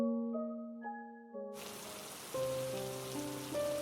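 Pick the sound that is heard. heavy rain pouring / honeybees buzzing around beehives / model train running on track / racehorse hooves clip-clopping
heavy rain pouring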